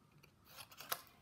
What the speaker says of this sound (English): Let me just trim a bit off the bottom.